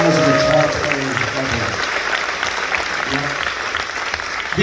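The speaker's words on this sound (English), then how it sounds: "How about a huge round of applause?" An audience on an 80s music cruise breaks into sustained applause and cheering, dense clapping that fades slightly over several seconds while a voice speaks over it at the start.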